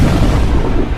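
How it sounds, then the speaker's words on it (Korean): A massive, sustained explosion rumbles as a powerful deep roar, loud and continuous for the full second without voices. "강력한 폭발과 함께"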